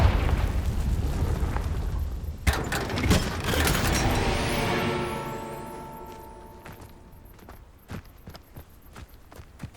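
Confringo fire spell blasts in the Hogwarts Legacy video game: a loud burst of explosive booms with crackling debris that rumbles and fades, followed by scattered sharp hits and thuds.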